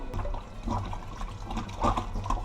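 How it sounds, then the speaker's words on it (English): Tap water runs steadily over raw chicken as it is rinsed clean of a lime and vinegar wash, a continuous close splashing and trickling that swells briefly, with no talking. "And then we come back now and we rinse it off the lime and the vinegar."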